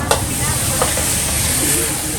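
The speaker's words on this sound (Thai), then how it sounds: "บังเขากำลังทำคณะปลาเค็มอยู่" Chinese kale with salted fish being stir-fried in a wok, a steady loud sizzle and hiss with a few clanks of the spatula throughout, no talk.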